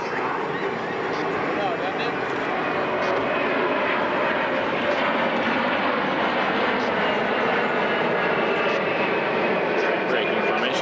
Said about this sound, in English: the KC-135 is going to maneuver for its landing attitude demonstration